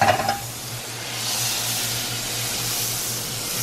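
Butter hits a hot pan with a brief clatter, then settles into a steady, moderate sizzle with a soft hiss that holds to the end.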